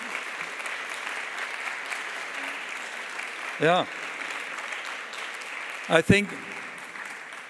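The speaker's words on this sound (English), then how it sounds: "So let me hear a round of applause for these three people" A conference audience in a large hall applauds steadily for several seconds as a dense, even wash of clapping, while someone speaks briefly into a microphone over it.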